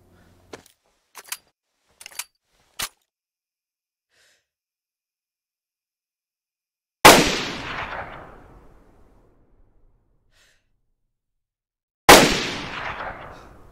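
A .308 Winchester rifle in the video game DayZ fires two loud, sharp shots several seconds apart, each followed by a long, fading echo, after a few soft clicks of handling.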